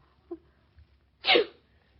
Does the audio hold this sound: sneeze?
yes